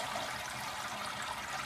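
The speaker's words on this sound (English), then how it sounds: "Now I can drain these peas and barley" Water drains steadily out of the holes in the bottom of a container of soaked peas and barley lifted over a sink, a soft continuous trickling hiss with no pauses.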